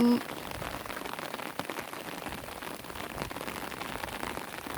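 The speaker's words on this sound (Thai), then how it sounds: "นตกปล่อยๆ ไม่มีฟ้า ไม่มีเสียงฟ้า" Steady rain falling on a house with no thunder, an even hiss of drops on surfaces throughout, fairly soft and continuous.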